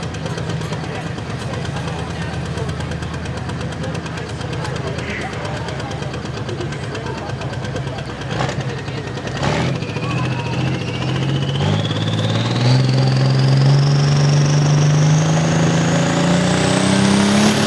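A pulling tractor with an intercooler roars at the Selinsgrove tractor pull, its loud, dense engine note climbing steadily in pitch as it strains down the track, with an announcer talking over it.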